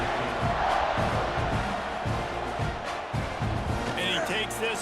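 A stadium crowd in a football video game roars steadily after a scoring drive, a dense wall of cheering and shouting with rhythmic swells, while a voice talks over it.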